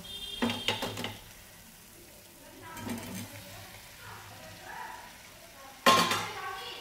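Pieces of already-fried papaya are dropped into a pan of oil for a shahi papaya korma, giving a couple of clattering metal stirring bursts, a quieter stretch of gentle sizzle, and a final sharp scrape of the spoon against the pan.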